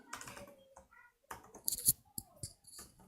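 Someone types a password on a computer keyboard: a short, uneven run of close, crisp key clicks in a quiet room.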